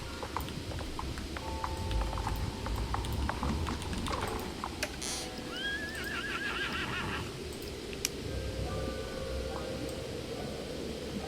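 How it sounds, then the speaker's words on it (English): Horse care ambience in the video game Star Stable Online: continuous rustling and faint clip-clop, with a single horse whinny rising midway through. "sound of people caring for their horses"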